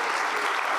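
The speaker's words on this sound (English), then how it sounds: "We've clapped you for buying a house." Audience applause, a dense, even burst of many hands clapping at a steady level throughout, close and loud.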